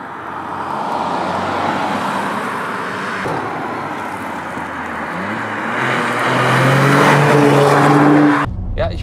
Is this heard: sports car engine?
yes